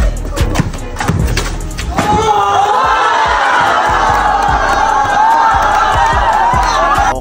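Crowd of spectators at a neighborhood basketball game in Purok 4, Quezon City, roaring and shouting loudly and continuously, with an earlier stretch of scattered shouts and thumps before the cheering swells.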